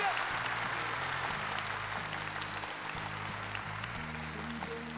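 A studio audience on a television singing competition gives a sustained, even round of applause lasting the full five seconds. Low background music plays underneath.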